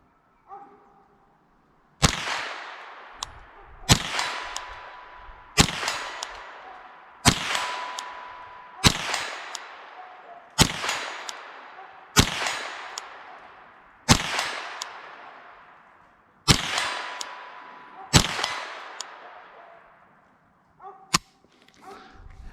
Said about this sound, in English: Oh yeah, little Walther P22 Plinking Fun.